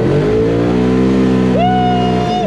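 A Polaris RZR Pro side-by-side drives over rough terrain, its engine droning loud and close, then revving up sharply as it accelerates.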